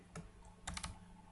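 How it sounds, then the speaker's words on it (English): Quiet, close keystrokes on a computer keyboard: a single tap, then a quick cluster of three or four clicks in a short burst, faint and unaccompanied by speech. "Let me type that 8081 then /coupons"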